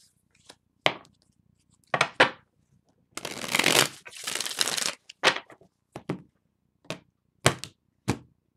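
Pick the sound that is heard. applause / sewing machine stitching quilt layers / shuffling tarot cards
shuffling tarot cards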